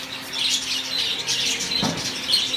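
Budgerigars chirp and twitter in soft, overlapping bursts, with one brief thud partway through and no speech.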